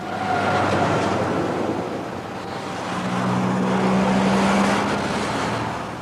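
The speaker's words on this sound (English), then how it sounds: "it exchanged most of its garden for the noise of incessant traffic." Incessant road traffic on a street in Whitby, England, rumbles steadily as a continuous wash of vehicle noise, swelling slightly as cars pass, with no voices.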